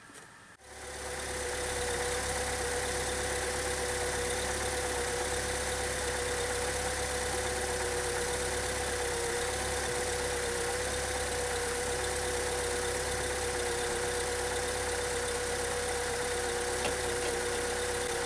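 A car engine starts and then idles steadily and evenly, with a constant hum and faint whine held for many seconds, nearby and alone with no talking, while daytime running lights are being set up.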